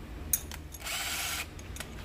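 Power drill boring a 3/4 inch hole in a blue plastic electrical box for an ice-fishing power kit, a brief whirring burst of about half a second between clicks and short mechanical taps, close and alone.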